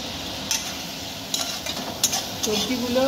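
Fried brinjal and drumstick pieces are stirred in a pan on low heat: a soft bubbling sizzle underlies several sharp clicks and scrapes of a spatula against the metal, growing busier toward the end.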